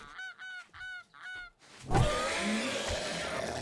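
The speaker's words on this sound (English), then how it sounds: "Again, I hear that goose." Goose honking from the game 7 Days to Die: four clear, nasal honks in a quick uneven series, then a burst of loud rumbling noise that drowns out the rest.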